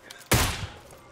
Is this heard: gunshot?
yes